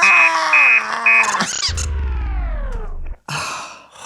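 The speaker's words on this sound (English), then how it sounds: "Would you like to hear my alarm? Yes, and make it loud." A robot alarm clock sounds loud electronic beeping tones that pulse and shift, then a descending synthetic warble and a final burst of tones, harsh and close.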